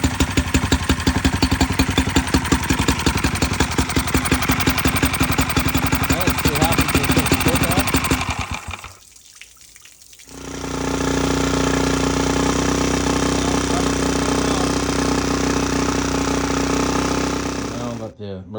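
A vintage Mercury jet outboard motor runs with a loud, rapid mechanical chatter and steady engine drone, briefly dropping out before resuming at a smooth, sustained idle.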